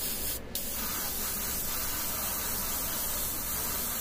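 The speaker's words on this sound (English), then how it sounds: "And then just hit this airbrush." An airbrush sprays paint onto an Adeptus Mechanicus Serberys Sulphurhounds tabletop miniature, giving a steady close hiss of compressed air that runs continuously for a few seconds after a short click.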